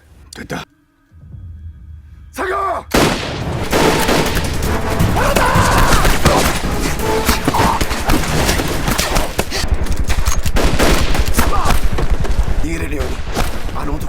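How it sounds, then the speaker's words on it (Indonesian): Loud battle gunfire from a war film about 1920s Korean independence fighters facing elite Japanese troops, dense and continuous after a brief quieter opening, with a voice talking over it. "mereka mulai menembak tapi tidak ada yang tepat sasaran"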